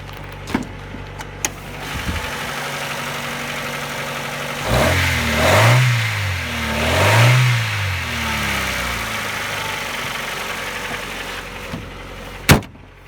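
A 1993 Honda Civic CX hatchback with a new muffler and the resonator deleted, revved twice in quick succession from idle, each rev rising and falling with a raspy growl, bracketed by a few sharp clicks and a loud knock near the end.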